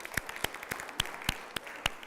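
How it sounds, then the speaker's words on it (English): A few separate, loud, close claps ring out in an uneven rhythm, like a small audience at a motivational seminar beginning a round of applause. "So I want to give you a round of applause just for showing up."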